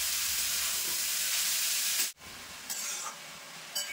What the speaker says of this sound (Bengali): ঘিয়ের সঙ্গে কিন্তু একটু ভেজে নেবো গাজর।